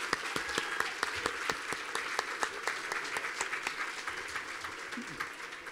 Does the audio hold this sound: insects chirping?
no